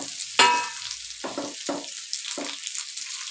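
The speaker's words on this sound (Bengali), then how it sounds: "এতে আমাদের অ্যাড করে নিতে হবে ফ্রাই করে রাখা চিকেন।" Fried chicken is stirred into a pan of sizzling fried rice for chilli chicken, with a low continuous sizzle broken by several short, sharp scraping bursts from the spatula.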